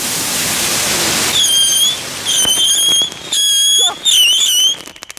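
A small Crackling Ball firework from a Lidl fireworks pack goes off nearby after a hissing fuse, bursting into loud crackling pops and whistling, shrill tones in several rapid bursts before fading into scattered crackles.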